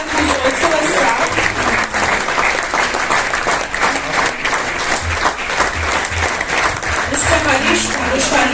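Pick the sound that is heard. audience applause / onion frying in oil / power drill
audience applause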